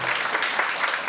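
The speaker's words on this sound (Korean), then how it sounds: "큰 박수와 함께 시작할까요?" Guests applaud to open a Korean traditional wedding ceremony, a brief, dense burst of many hands clapping at steady loudness, with no talking over it.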